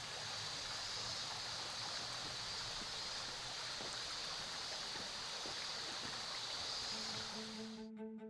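A tall waterfall in Daisen-Oki, Japan, one of the country's hundred finest falls, gives a continuous dense rush of falling water, steady and moderately close, with no voices.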